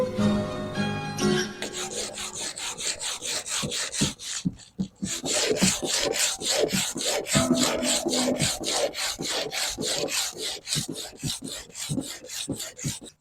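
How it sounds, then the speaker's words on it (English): Hand sanding of wood with 60 grit sandpaper while painting a narrowboat: loud, close, rhythmic rasping strokes in a steady back-and-forth pattern, repeated many times with a brief pause near the middle and no talk. "use 60 grit sandpaper here"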